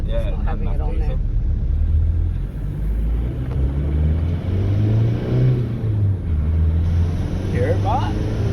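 An Isuzu Rodeo 3.0 TDI with the 4JH1-TC diesel engine, being checked for loss of power, revs and rumbles up close, its pitch rising and falling under brief talk.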